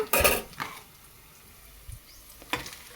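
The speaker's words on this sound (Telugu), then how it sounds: "టమాటా వేస్తున్నా" Chopped tomatoes are added to a pan of capsicum curry in a village kitchen. A few sharp clinks of a utensil on the pan come up close, with faint sizzling between them and no talk.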